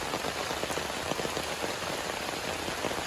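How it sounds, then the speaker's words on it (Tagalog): Steady rain patters densely and evenly on surfaces around a farm plot of crops during a typhoon, a continuous close hiss with no voices. "It's rainy."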